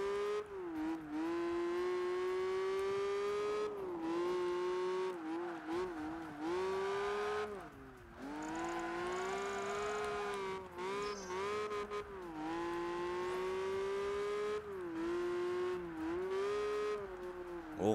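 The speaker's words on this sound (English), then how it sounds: "Let's drive this car around Vegas." A car engine in Project Gotham Racing 3 drones steadily through a drive around Las Vegas, its pitch rising and falling with brief dips as gears shift and the car slows into turns, loud and continuous throughout.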